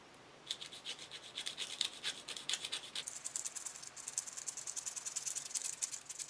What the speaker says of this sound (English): After the rough shape is cut, the rest is done by sanding.